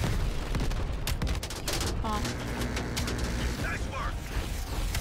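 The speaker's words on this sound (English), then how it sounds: "Missiles." Missile launches and heavy weapons fire in Call of Duty: Black Ops Cold War, a dense continuous barrage of gunfire and whooshing blasts, with a radio voice talking partway through.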